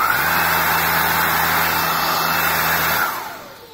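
A Xiaomi Dreame V10 cordless stick vacuum cleaner runs close by with a loud, steady motor whine and airflow hiss, then shuts off and spins down near the end.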